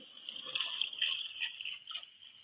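Water pours from a glass onto soaked rice for chicken biryani, a steady close splashing trickle that runs without pause, with no talking.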